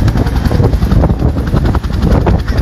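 A helicopter runs close by with a steady, loud rotor chop and engine drone, continuous throughout with no pause, while a police detainee is being loaded aboard.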